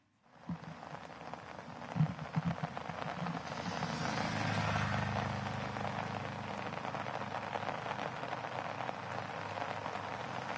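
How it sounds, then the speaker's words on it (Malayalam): Heavy rain falling across Ernakulam, a dense continuous hiss and patter that swells after a brief start and holds steady, no talk. "ഇപ്പോഴും അതിശക്തമായ മഴ ഒരു ഇടവേളയ്ക്ക് ശേഷം വീണ്ടും എറണാകുളം ജില്ലയിൽ വ്യാപകമായി തുടരുന്നു"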